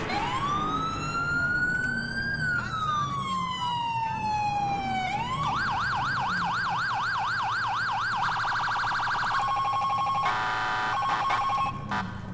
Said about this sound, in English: Also, new siren. I'll go and play that for you guys real quick.